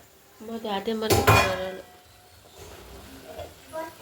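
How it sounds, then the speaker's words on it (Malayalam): A metal cooking-pot lid lifts off with a brief clink and rattle while rava pongal simmers on the stove, with a person talking over it. "അപ്പോൾ ഞാൻ അടപ്പ് തുറക്കുകയാണേ"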